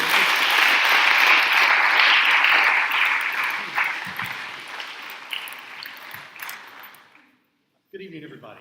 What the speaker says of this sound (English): Let's give one last round of applause for our panelists.